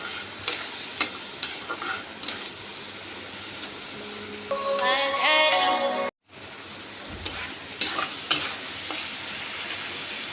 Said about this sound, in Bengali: মশলাটা কষছি ভালো করে টমেটো দিয়ে।